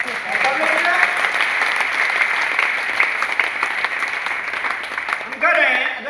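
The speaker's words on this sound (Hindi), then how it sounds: "एक बार ताली बजाइए आप लोग।" A seminar audience in Bhilwara applauds steadily and loudly for about six seconds, the clapping dense and sustained with a brief swell near the end.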